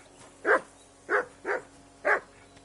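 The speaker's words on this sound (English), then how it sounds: "Henry, whistle at that mutt of yours to stop barking" A dog in Kingdom Come: Deliverance II gives four short, separate barks at an even rhythm over a quiet game background.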